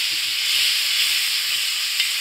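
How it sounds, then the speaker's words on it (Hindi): Daal mash cooked Afghani style sizzles loudly as a little yakhni stock goes into the pan, a dense, steady hiss of frying with faint stirring beneath. "अब इसमें हम यखनी ऐड करेंगे थोड़ी सी।"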